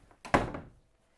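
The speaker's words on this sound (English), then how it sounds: "I'm going to close my door." An indoor door closing, a single sharp thud with a short scrape just before it, then quiet.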